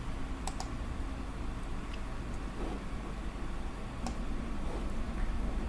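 Soft keystrokes and clicks patter irregularly on a computer keyboard, faint and close over a steady background hiss, with no voices.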